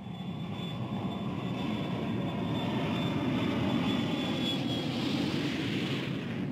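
Large zero-gravity research aircraft pulling out of a near-vertical dive close to the speed of sound, a continuous loud engine and airflow roar with a steady whine, unbroken throughout.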